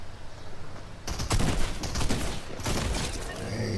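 Video game gunfire in Fortnite, a dense burst of rapid shots and fusillade that starts after a quiet first second and keeps going loud and close, with no talk in the clip.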